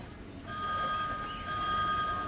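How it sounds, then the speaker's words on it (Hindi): A telephone ringing with a steady electronic tone that starts abruptly and repeats in a sustained pattern, fairly close and moderately loud against faint background noise. "वह सच्चू भैया ने उन्हें फोन मिलाया।"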